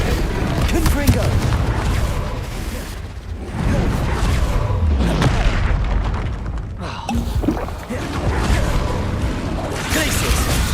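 Loud fiery spell blasts from the Hogwarts Legacy video game, a dense run of booming explosions with whooshes that nearly fills the stretch, mixed with shouted spell incantations.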